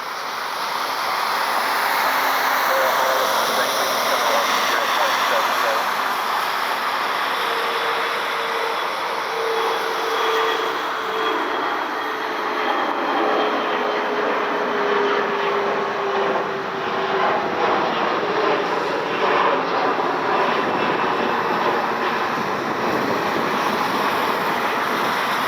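A CRJ regional jet departs Cleveland Hopkins airport on a rainy night, its engine roar loud and continuous with a slowly falling whine, mixed with wind and rain noise.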